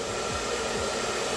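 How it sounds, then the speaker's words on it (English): A hair dryer running from an EcoFlow Delta 2 Max portable power station gives a steady, loud whooshing blow of air with an even motor hum and no voices. "Let's go ahead and turn on the hairdryer and just see what happens."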